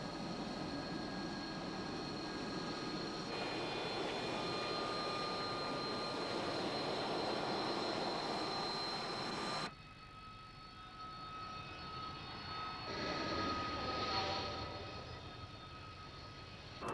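Harrier jump jet at an air show demonstration at RAF Fairford, a loud sustained jet roar with a whining tone that drops off sharply partway through, then swells again more distantly.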